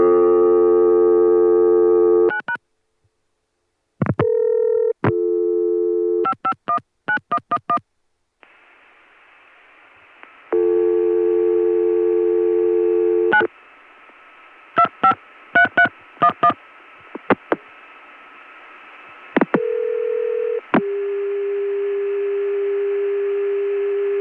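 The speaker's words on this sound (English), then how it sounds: "I'm going to dial it on the 9 line of a New York Dimension PBX" Telephone line tones on a New York Dimension PBX, 1980: steady dial and busy tones alternate with bursts of rapid touch-tone dialing beeps and brief clicks, clean and loud, with short gaps of silence between.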